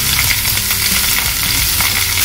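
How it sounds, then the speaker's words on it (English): Loud, steady sizzling and crackling of curry leaves frying in hot oil continues throughout, close up, with no voices. "And you put it also inside now for frying."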